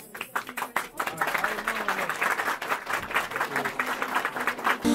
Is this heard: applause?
yes